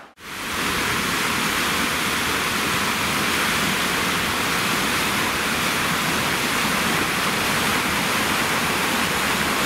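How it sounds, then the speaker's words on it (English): Water rushes steadily down a country lane in Glanrhyd in February, a loud, continuous broadband wash like a small stream or runoff, unbroken for the whole stretch with no voices. "A bit of water trundling down here, eh?"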